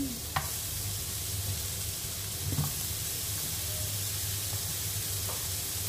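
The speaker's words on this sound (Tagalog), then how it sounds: "dito na rin tayo sa onion. Iprito natin." Chopped onion frying in a small amount of cooking oil, a steady soft sizzle and hiss with occasional light clicks of stirring, close and fairly quiet.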